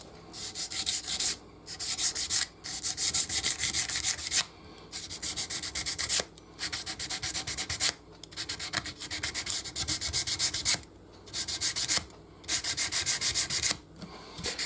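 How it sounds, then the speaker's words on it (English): Sandpaper rubs over a wooden Strat guitar neck in rapid back-and-forth bursts, close and loud, with short pauses between strokes and no talking. "we're just kind of smoothing this out a little bit"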